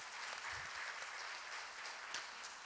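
Church congregation clapping together to welcome first-time visitors at a Sunday service, steady, moderately distant applause filling the room for a few seconds.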